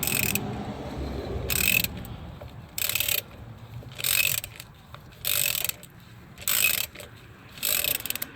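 Wrench or ratchet working a seized, almost heat-welded control arm ball joint on a 2013-2016 Dodge Dart, giving about seven loud, evenly spaced bursts of ratcheting clicks, each lasting roughly half a second, over a low background hum.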